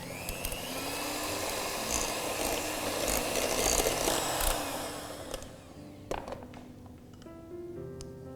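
Butter and eggs are beaten together in a bowl with a continuous whirring mixer drone that runs for about five seconds, then cuts off, leaving a few clinks and taps.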